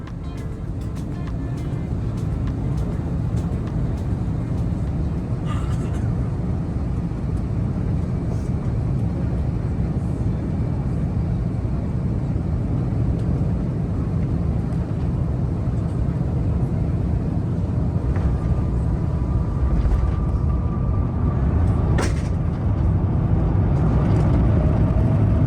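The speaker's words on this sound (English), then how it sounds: "our aircraft touching down smoothly on runway 34 left" Airbus A350 airliner on final approach and touchdown on a runway, heard from inside the cabin as a loud, steady roar of engines and rushing air that holds constant throughout.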